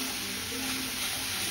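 Grated red pumpkin sautés in a pan, giving a soft, steady sizzle that holds evenly throughout with no talking.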